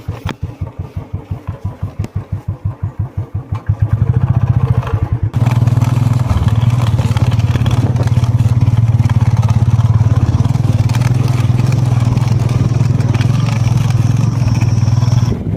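A motorcycle carrying two riders labours down a rough, steep Darjeeling mountain road, its engine first thudding in a rapid rhythmic pulse, then settling into a loud, continuous rumble with clatter over the bumps.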